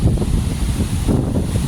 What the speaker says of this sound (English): Kind of twisting around the wind in different directions.